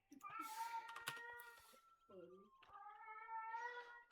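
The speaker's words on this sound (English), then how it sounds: "One of our cats can't find the other one and is complaining so loudly you might be able to hear it" A house cat complains with a series of loud, drawn-out meows, several separate wails with short pauses between them, faint and indoors, over a quiet background with soft clicks.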